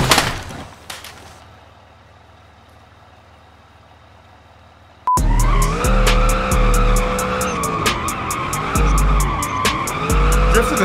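Car drifting in BeamNG.drive, a sustained loud tire skid with engine whine that kicks in abruptly after a quieter stretch of low rumble, steady and close with squealing pulses throughout.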